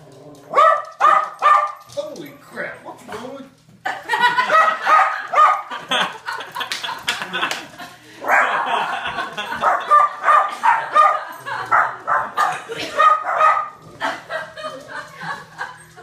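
A dog barks repeatedly in loud, close bursts, with someone talking and chuckling between and over the barks.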